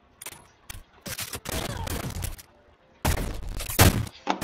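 Rapid gunfire from a gun in the video game Shell Shockers comes in dense, fast bursts separated by short pauses, loud and close.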